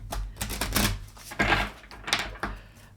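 A deck of tarot cards is shuffled quickly in a few short riffling bursts, close and crisp, with brief pauses between them.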